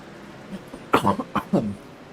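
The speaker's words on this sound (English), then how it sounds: "Sorry for that cough." A few close, sharp coughs from one person during a commentated truck racing broadcast, a faint cough followed by three louder throaty bursts, all heard alone over a quiet background.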